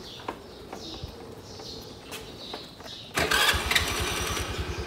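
A car engine starts in a parking lot, with quiet birdsong beforehand and then an abrupt, louder running engine that settles into a steady rumble.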